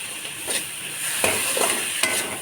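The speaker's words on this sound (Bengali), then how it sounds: "এটাকে সুন্দর করে ভেজে নিয়ে এটা টমেটো দিয়ে তারপরে ভাজবো।" Leafy greens frying in a pan with tomatoes, a bright continuous sizzle punctuated by a few sharp stirring scrapes, close and fairly loud.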